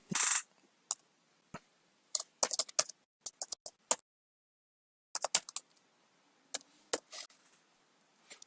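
Computer keyboard typing during Python API testing: scattered crisp key clicks and short bursts, close-miked and fairly quiet, with pauses between groups and no talk.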